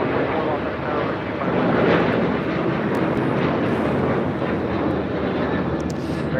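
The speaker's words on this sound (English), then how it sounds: "We'll have a south side takeoff here coming up" An airliner's engines roar steadily during a takeoff from runway 25 right at LAX, a broad, continuous rumble heard from a distance with wind buffeting the microphone.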